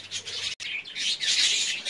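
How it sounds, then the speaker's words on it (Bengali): Colony pet birds chirp busily while coming to eat soft food, overlapping high tweets close to the microphone with a brief rubbing sound. "কলোনির পাখি তো বন্ধুরা দেওয়ার সঙ্গে সঙ্গে খেতে চলে এসছে।"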